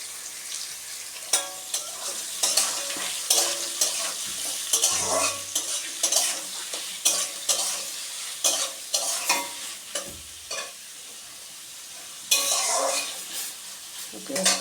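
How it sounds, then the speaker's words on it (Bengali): Chopped onions fry in a pan for a Sunday mutton dish, with steady sizzling broken by frequent, close scraping stirs of the spoon. "পেঁয়াজটা ভাজা হোক।"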